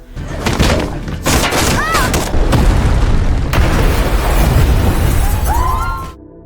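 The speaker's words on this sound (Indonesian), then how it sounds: "Jisoo melemparkan granat ke laboratoriumnya dengan tujuan untuk membunuh Namsan" A grenade blast tears through a laboratory in a film scene: a loud, sustained roar of booming, shattering debris and crashing breakage fills about six seconds, with brief high whistling tones and voice-like sounds mixed in.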